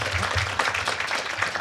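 An audience at a forum on geopolitical crisis and natural gas claps to welcome a professor to the stage. The applause is a dense, even wash of clapping that holds at full strength for the whole short stretch.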